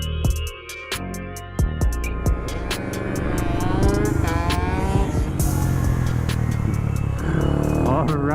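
A Honda Grom motorcycle lapping a race track, its small engine revving and rising and falling in pitch through gear changes, loud and close, with wind rush and a voice talking over it.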